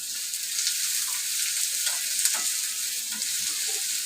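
Onion roasting in a pan for a Malvani-style vangyache bharit, giving a steady close hiss of sizzling with faint scraping stirs throughout, no voices.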